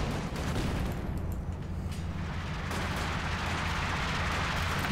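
An artillery barrage in Company of Heroes 2 rolls on as a steady rumble of distant, overlapping shell impacts and crackling fire, holding an even level from start to finish.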